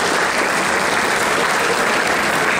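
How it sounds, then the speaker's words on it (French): Audience at a manga convention stage show in Fréjus bursts into applause, a dense, steady clatter of many hands clapping loudly throughout, with no talk over it. "Oui, tu as le droit d'applaudir, ça fait plaisir."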